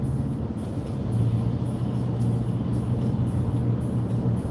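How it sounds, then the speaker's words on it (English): Continuous low rumble of road traffic at the corner of 41 and 776 in Venice, cars passing steadily through the intersection with a droning engine hum and no talk. "This traffic."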